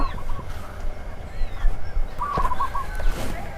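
Small chickens at a farm cafe in Chonburi give short, scattered clucks at close range over a busy outdoor background.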